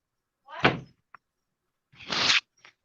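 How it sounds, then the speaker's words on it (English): A pantry door moves twice in quick succession, each a short swishing thud close by, with a small knock in between and silence around them. "The pantry door. You can't leave it open when I'm in there"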